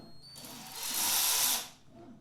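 The motor of a Parkside PAR12A1 cordless ratchet whirs briefly with the trigger barely pressed, swelling louder for about a second before easing off, up close.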